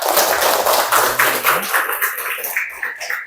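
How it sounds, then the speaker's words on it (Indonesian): A class of seventh-grade students claps for a classmate, a brief patter of applause that thins out after about a second and a half, with a voice and other small sounds following. "Tepuk tangan untuk Pelia."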